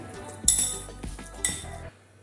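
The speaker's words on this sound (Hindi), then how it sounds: "इसे थोड़ा सा और मिक्स करते हैं।" A spoon mixes a leftover rajma rice kebab mixture bound with gram flour in a bowl, giving a few sharp clinks against the dish and soft stirring scrapes, close and fairly quiet, with no talking.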